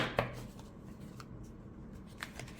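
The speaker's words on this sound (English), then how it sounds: "Riffle shuffles really well." A slippery first-edition Ink Witch tarot deck is riffle shuffled, giving a couple of quick, crisp card bursts close by with quiet pauses between.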